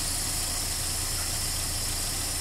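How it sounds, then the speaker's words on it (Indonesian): A Nissan Terrano engine idles steadily after a carburetor change, giving an even, continuous low hum with a fine rapid pulse and no speech. "ini mesin tenang, normal"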